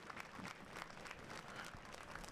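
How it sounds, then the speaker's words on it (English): Scattered applause from the crowd at a high school football game between Austin Regents and Brook Hill, distant and fairly soft, continuing steadily for a couple of seconds. "a nice round of applause there for the injured Brook Hill player"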